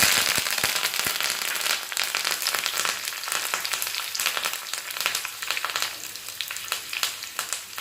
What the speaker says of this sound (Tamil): கடுகு உளுந்து நல்லா பொரிஞ்சதுக்கப்புறம் கடலைப்பருப்பு சேர்த்துருங்க